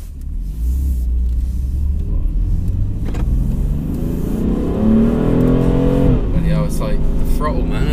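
A BMW M3 engine revs and accelerates, a loud rumbling drone rising in pitch over several seconds before easing off, heard from inside the car with people talking over it.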